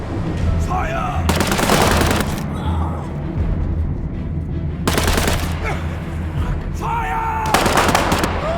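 Bursts of automatic gunfire in the WWII-themed game War Mongrels, two loud rattling volleys separated by quieter ambience, with a third shorter burst near the end over a low rumbling background.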